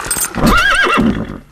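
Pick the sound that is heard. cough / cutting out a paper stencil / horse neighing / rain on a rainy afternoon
horse neighing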